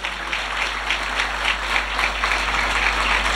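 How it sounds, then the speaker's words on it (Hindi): Loud, sustained applause from a congregation during a Christian television program on thanksgiving, with dense clapping running steadily throughout and no speech over it. "ये ज़ोरदार तालियाँ उसके लिए बजाइए"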